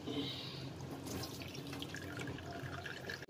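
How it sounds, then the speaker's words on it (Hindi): Tap water from a tank-fed faucet runs quietly into a sink as bitter gourd is washed, giving a soft, continuous trickle and splash at a low level with light dripping, heard alone. "नल में टंकी का पानी आता है तो इससे वॉश करने के बाद मैं एक बार अच्छे पानी से और करूँगी।"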